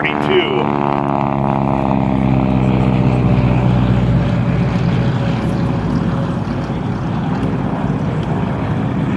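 A 1942 BT-13 trainer aircraft passes at an airshow, its radial engine a loud, steady drone with a harmonic hum, continuous and close throughout, under a busy outdoor background.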